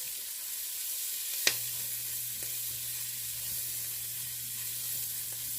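An onion sautéing in a pan for collard greens gives a steady, faint sizzle throughout, with one sharp tick near the start and no voices.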